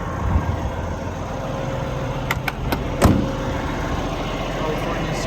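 A 2016 Peterbilt 579 truck with a Cummins ISX engine and automatic transmission idling at about 825 RPM: a steady low diesel rumble, with a few brief metallic clicks in the middle.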